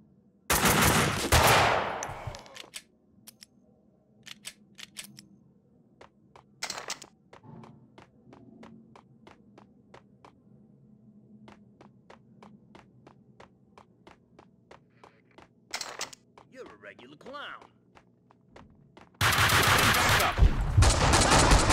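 Gunfire in Max Payne 2 opens and closes with loud, heavy bursts, while sharp single shots crack at intervals in between over a steady low hum.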